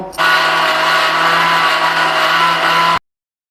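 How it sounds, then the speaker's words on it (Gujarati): A kitchen mixer grinder blends dry buttermilk masala spices with salt, black salt and dry mango powder, a loud steady whirring motor hum that starts abruptly, runs evenly for about three seconds and then cuts off. "તો આપણે આ બધી જ વસ્તુને મિક્સરમાં સારી રીતે મિક્સ કરી લીધી છે"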